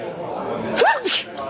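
A single sharp human sneeze bursts out briefly over a quiet room tone during a tabletop game, with speech nearby.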